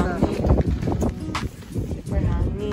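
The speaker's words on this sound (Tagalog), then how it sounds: "Super hangin." Strong gusty wind at a beach campsite in Caisip, Butiong, Batangas, buffeting the microphone with a low, rumbling roar that carries on throughout while people talk over it.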